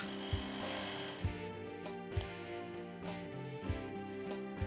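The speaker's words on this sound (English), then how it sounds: "then get her sanded. Working my way all the way up to 800 grit." Sanding a wooden Christmas ornament up through fine grits to 800, heard as a steady humming, whirring drone with soft rhythmic knocks about once a second, close and continuous without talk.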